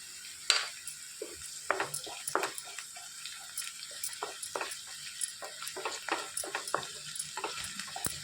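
Ginger garlic paste fries and sizzles in a pan with green chillies for a catering-style drumstick masala curry, a soft steady crackle broken by light stirring clicks and scrapes.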